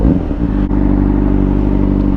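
A Honda CBR600RR motorcycle is ridden with a loud, steady engine drone and constant wind rush, close and continuous throughout.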